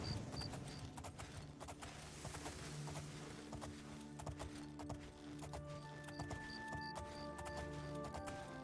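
Hooves trot in a steady clip-clop rhythm as an armored horse and rider travel beside a river in The Elder Scrolls IV: Oblivion, set against quiet game ambience with faint tonal music notes.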